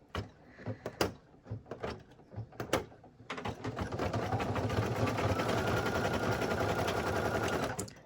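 A Brother embroidery machine stitches a design onto a towel: a few sharp mechanical clicks and knocks come first, then a steady, rapid, close-up whirring hum of stitching runs to the end.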